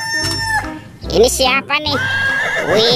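Toy zebra's electronic horse neigh, a loud whinny ending in a long rising squeal, with a rooster crow mixed in, close and bright while someone speaks over it.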